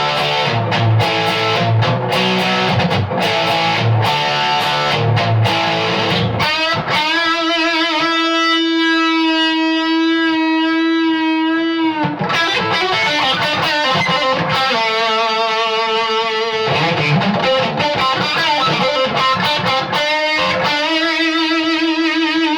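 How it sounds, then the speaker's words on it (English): A distorted electric guitar played loud through a Suhr Riot pedal with distortion at full and level at mid, set on a clean amp channel. Chugging riffs give way to long sustained chords, then more riffing, with no talking. "distortion is full on, and level is still mid"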